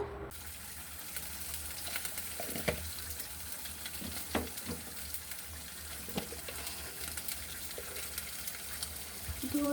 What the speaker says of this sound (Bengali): এখন চিংড়ি মাছগুলোকে দিয়ে দিতে হবে হালকা করে নেড়ে চেড়ে দিব